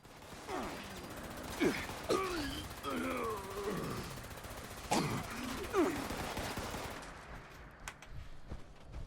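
Gunfire from shooting enemies in Fallout 76, with a few sharp shots standing out amid a busy game mix while someone talks over it throughout.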